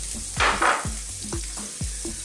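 Onions and oregano fry in olive oil in a pan, a continuous sizzle under repeated low rhythmic knocks and a brief louder hiss surge near the start.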